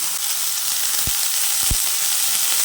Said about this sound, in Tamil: எண்ணெய் சேர்த்துக்கலாம் நல்லா வெங்காயம் வதங்கட்டும்